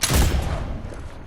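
A gray flintlock fires once in a video game, a single booming shot that rolls off into a short fading rumble.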